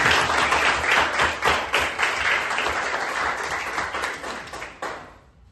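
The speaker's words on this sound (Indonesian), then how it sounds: "Oke, kita tepuk tangan untuk" An audience claps steadily through a class session on personal boundaries, a dense wash of hands that tapers off and stops near the end.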